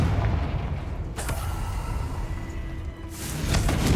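Confringo fire spell blasts in Hogwarts Legacy: two loud explosive bursts about two seconds apart over a rumbling background, with no talking.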